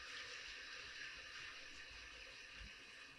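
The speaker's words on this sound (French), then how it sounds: "Juste le rincer rapidement," Faint, steady hiss of tap water running over canned chickpeas being rinsed in a kitchen, continuous and unbroken throughout.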